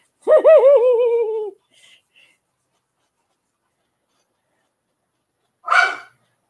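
A dog indoors, barking at a child, gives a long wavering, howl-like bark. After several seconds of quiet, one short, sharp bark follows, both loud and near.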